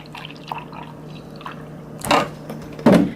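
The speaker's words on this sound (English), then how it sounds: "Then I'm gonna put some milk." Milk splashes into a cup of coffee in two short, close pours, each a brief bright gurgle, with quiet room noise in between.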